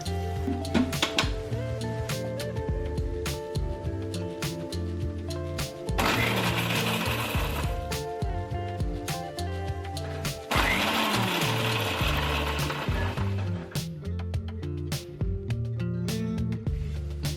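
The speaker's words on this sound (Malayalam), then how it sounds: "ഇനി കുതിർത്ത് വെച്ചിരിക്കുന്ന വറ്റൽമുളക് മിക്സിയുടെ അതേ ജാറിൽ തന്നെ ഒന്ന് അരച്ചെടുക്കാം." A mixer grinder jar grinds soaked dried red chillies for a Kerala-style sardine curry in two loud whirring bursts of a few seconds each, separated by a short pause, over steady background music.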